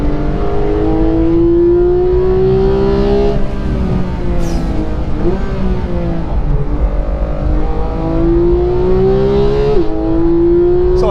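A Porsche 911 GT3 engine revs hard on a race track, a loud, close, rising high-pitched wail with repeated upshifts and steps in pitch as it climbs through the gears.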